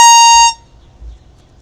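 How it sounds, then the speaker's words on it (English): A loud air horn lets out one steady, blaring blast of about half a second, then cuts off abruptly, leaving near silence. "There is an air horn."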